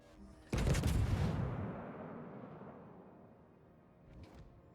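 A battleship fires armour-piercing shells at a Smolensk cruiser in World of Warships: one sudden heavy salvo blast that rolls off into a long fading rumble, with a faint second thump near the end.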